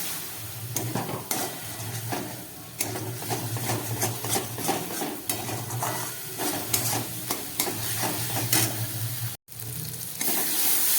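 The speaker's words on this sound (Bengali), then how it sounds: "খুব ভালো করে মশলাটাকে আমি একটু কষিয়ে নিচ্ছি।" Spice masala for rajma being fried and stirred in a pan, a loud continuous sizzle with repeated scraping strokes of the spoon against the pan, close up and without speech.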